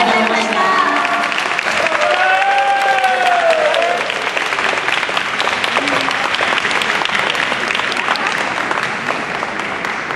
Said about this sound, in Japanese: 任命アーティストの皆さんに改めて大きな拍手をお願いします